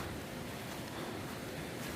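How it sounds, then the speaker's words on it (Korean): Water rushes steadily through a valley stream beside a campsite, a continuous broadband wash with no breaks and no voices. "물 흐르는 거 봐요, 진짜."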